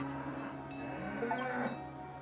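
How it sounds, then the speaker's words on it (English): A cow moos in the video game Dungeons of Hinterberg, a single drawn-out low call heard alone over steady game ambience. "hello cow"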